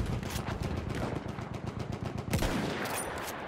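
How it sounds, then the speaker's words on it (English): Rapid machine gun fire in a World War I shooter game, a steady fast stream of close, sharp shots running without a break and then a heavier burst near the end. "Machine gun, one of theirs."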